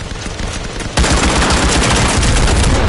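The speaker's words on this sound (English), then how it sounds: "I shot about three in his chest and they didn't even register" Gunfire in the VR shooter Firewall Zero Hour, a sudden loud rapid string of shots that begins abruptly after a quieter moment and continues steadily to the end.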